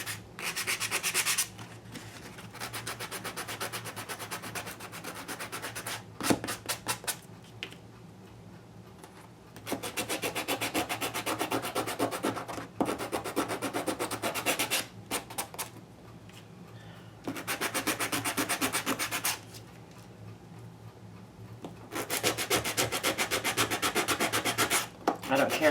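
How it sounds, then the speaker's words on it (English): A cigar box label being sanded by hand: steady, raspy rubbing strokes in long bursts with short pauses between them, close and fairly loud, with no talking. "I'm gonna sand that label down so that it will stick to the box"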